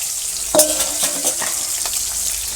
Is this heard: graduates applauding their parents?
no